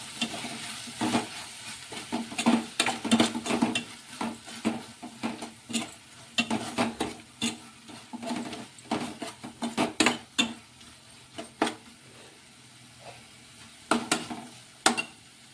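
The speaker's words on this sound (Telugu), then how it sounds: "కొంచెం సాల్ట్ కలుపుకుందాం" Salt being stirred into a sizzling okra masala curry in a pan, with repeated scraping and clinking strokes of a spoon against the pan over a steady frying hiss.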